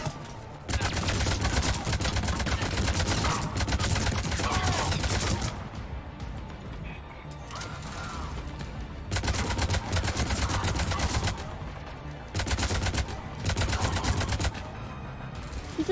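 Rapid automatic gunfire rattles in Mass Effect 3 combat, loud dense bursts lasting several seconds each, separated by short lulls, with faint voices in the gaps.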